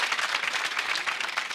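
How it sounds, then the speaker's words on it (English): Studio audience at a BBC National Lottery game show breaking into steady, dense applause, sustained and fairly close throughout with no gaps. "So a big round of applause, please, for Simon."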